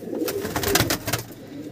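Young squabs of a Jiriya pigeon breed, offered at a bird sale, give a short, soft burst of pulsing coos close by with a faint rustle behind.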